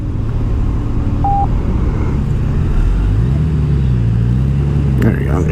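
A 2019 Honda Goldwing motorcycle engine rumbles steadily up close, its deep note rising and falling under throttle, with wind and road noise throughout.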